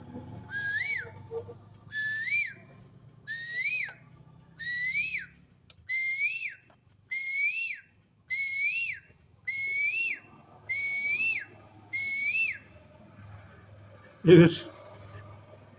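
Someone whistles an imitation of a koel call, ten rising two-note phrases repeated evenly with short pauses, followed by a sharp bump.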